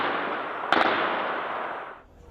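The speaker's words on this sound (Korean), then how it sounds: "곳곳에는 총성이 잇따라 울려 퍼집니다." Gunfire ringing out amid Iran's anti-government protests, heard as a dense, continuous roar of distant crackling shots, with one sharper burst standing out briefly before the noise thins near the end.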